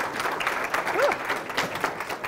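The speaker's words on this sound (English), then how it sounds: "a round of applause" A crowd applauds steadily, a dense wash of clapping hands that carries on for a couple of seconds, with a faint voice rising briefly in the middle.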